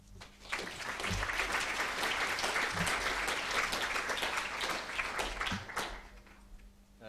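Audience applause welcoming architect John Pawson to a lecture: steady, dense clapping from a sizeable crowd, sustained for several seconds before fading near the end.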